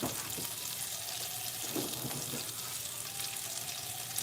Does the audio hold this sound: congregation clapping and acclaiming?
no